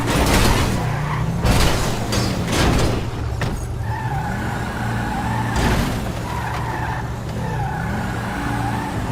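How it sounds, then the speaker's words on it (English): A car taking heavy damage in GTA FiveM: loud tire skids, revving engine and repeated sharp crash impacts with metallic clunks, continuous and close throughout. "Trying to get some extensive damage on the car here."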